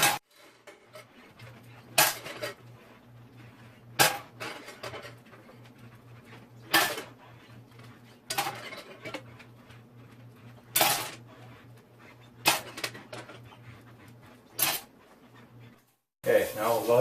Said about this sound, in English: It really sucks to wash off spoons